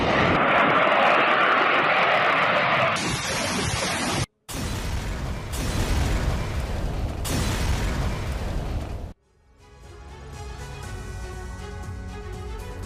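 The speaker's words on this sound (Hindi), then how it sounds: "यूक्रेनी मिलिट्री पोस्ट पर गिराए गए बम हमले के लिए रूस ने Su-25 का इस्तेमाल किया है" A Russian Su-25 attack jet bombing a Ukrainian military post, with a loud roaring engine and blast noise, abrupt cuts and a sudden dropout, then a quieter rumbling tail.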